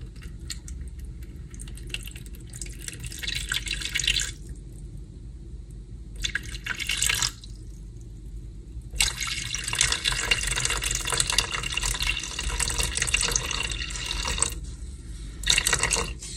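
Water runs in bursts from a tap into a bowl on a kitchen scale for sourdough bread dough, gushing in several pours separated by pauses, with a low hum underneath.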